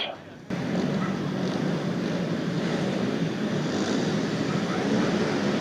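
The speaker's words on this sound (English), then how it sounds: "On the start line then, revs rise." Grasstrack racing motorcycles rev together on the start line at a 2015 meeting, a loud, continuous roaring drone that swells after a brief quieter moment, with a commentator's voice faintly under the engines.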